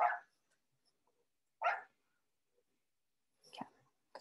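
Dogs in a residential neighborhood bark in three short, spaced yelps, distant and faint against an otherwise quiet background.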